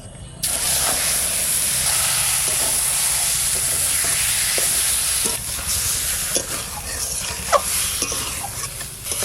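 Mutton frying in a little white oil in a kadai, a loud continuous close sizzle with occasional stirring scrapes and clicks as the hiss eases slightly later on.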